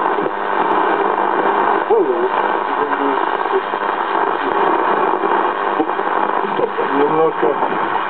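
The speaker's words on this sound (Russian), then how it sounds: "поворотом вот этой рукояточки включим приемник, дадим ему звук" A Spidola transistor radio receiver, switched on and tuned across the medium-wave band, gives a steady band-limited hiss and hum with warbling, whistling tuning tones drifting through, loud and continuous throughout.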